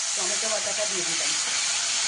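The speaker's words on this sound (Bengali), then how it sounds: "আমার তেল গরম হয়ে গেছে, তেজপাতা, সাদা জিরে আর একটু হিং ফোড়নে দিলাম।" Bay leaf, cumin seeds and asafoetida sizzling in hot oil for a tempering, a steady bright hiss and crackle that holds evenly throughout the clip.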